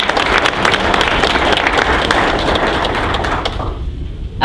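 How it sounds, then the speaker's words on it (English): Crowd applause for loyal contributors at a United Way recognition event, a dense, loud roar of many hands clapping that holds steady and then drops off sharply near the end. "have a round of applause for all of our loyal contributors."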